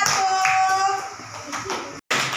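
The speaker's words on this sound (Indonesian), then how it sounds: "Kita berikan tepuk tangan untuk kelompok 1." A class of schoolchildren claps for a student group, a short burst of applause mixed with children's chatter, ending abruptly after about two seconds.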